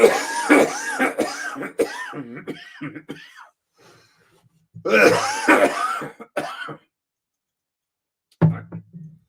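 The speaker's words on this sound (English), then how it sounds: "This is like 3 months of cough. It's so debilitating." Two long fits of harsh, wheezy coughing close by, each a run of rapid hacking coughs, separated by a pause and ending with one short cough.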